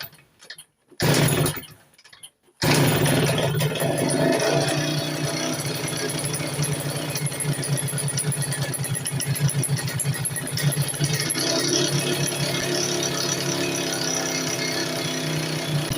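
A Tomos moped's two-stroke engine starts after a couple of brief false starts, then runs steadily and loudly close by with a rapid ticking, knocking rhythm through its idle.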